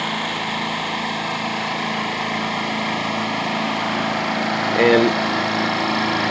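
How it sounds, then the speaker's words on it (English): A new-design, low-noise IP-50 electric air compressor runs with an even, constant motor hum at moderate level, with a brief spoken word partway through. "this is all noise you're gonna have with this new designed electric air compressor"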